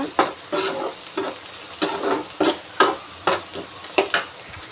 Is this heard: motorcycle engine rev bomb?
no